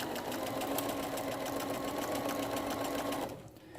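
A Bernina 325 sewing machine back stitches stretch binding, humming in a fast steady close whir that cuts off abruptly near the end, with no talking.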